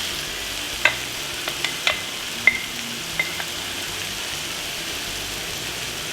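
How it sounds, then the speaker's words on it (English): Green pepper, celery and carrot sauté in oil in a pan, giving a steady soft sizzle with a few sharp utensil taps and scrapes as they are stirred, close by and with no talk. "You want these vegetables to become limp, but keep an eye on them and give them a frequent stir so that they don't scorch."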